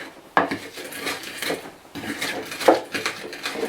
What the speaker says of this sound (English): I don't want it too smooth and I actually do want it the traditional way, so I'm going to very quickly crush them all together.